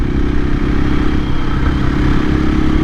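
A 2024 KTM EXC-F 500 dual-sport motorcycle runs under a steady, loud engine drone while the rider drops a gear, with some clatter and rumble all the way through and no sharp rev spike.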